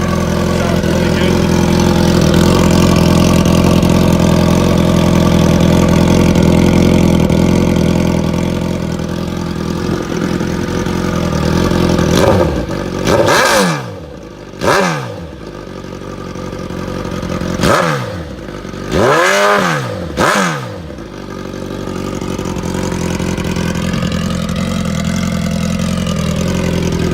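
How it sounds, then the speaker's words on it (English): A 2014 Suzuki GSX-R 1000 sportbike with a shortie exhaust pipe idles loud and close, then blips its throttle in several sharp revs that rise and fall before settling back to a steady idle. "While we have it started, I'll rev it up. It's got a Shortie pipe on it."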